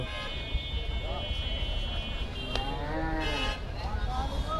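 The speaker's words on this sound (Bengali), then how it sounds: "এখানে অনেক গরু আছে এবং আসতেছে" Several cattle moo loudly and repeatedly nearby at a busy Eid al-Adha cattle market in Faridpur, Bangladesh, long low calls overlapping amid a crowd background with people talking.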